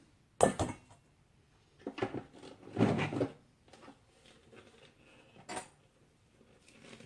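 Cookie dough being spread into a skillet, a few scraping and knocking bursts of a utensil against the pan separated by quiet pauses, close and intermittent.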